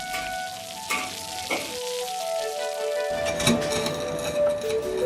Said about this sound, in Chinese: 下锅炸至酥透